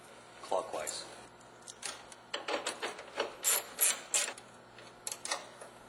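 Screws on a Chevy Tahoe signal light are turned clockwise with a screwdriver, giving soft, quiet ratcheting scrapes and rubbing clicks in uneven bursts, close by.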